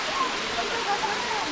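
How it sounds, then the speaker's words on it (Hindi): Steady rushing roar of a waterfall at Amboli Ghat, close and constant, with faint brief tonal chirps riding over the water noise. "देखिए ये झरना कलकल बह रहा है।"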